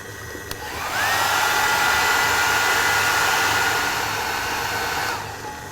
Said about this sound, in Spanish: Con mucho cuidado vamos a hacer unos 20 segundos de calor con nuestro secador.